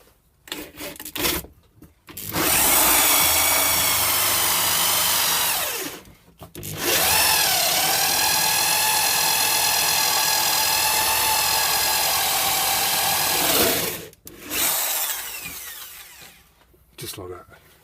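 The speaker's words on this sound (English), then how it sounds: "Then we're going to drill a hole through the side." A power drill bores a hole through the side of a wooden arcade controller box in two long, loud whining bursts, with short pauses and brief handling noises around them.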